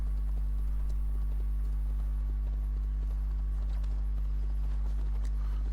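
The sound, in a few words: lynx mount footsteps sounding like horse hooves, Assassin's Creed Valhalla video game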